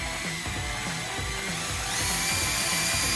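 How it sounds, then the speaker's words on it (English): A steady electric drill spinning a 1929 Pontiac engine during an overhaul whines continuously with a rhythmic, pulsing motor hum, close and loud throughout, growing slightly louder near the end. "I don't know how fast I'm turning with my hillbilly drill set up"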